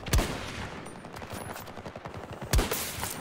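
Sniper rifle fire in Battlefield 2042: two loud, sharp shots about two and a half seconds apart, with faint scattered battlefield clatter between them.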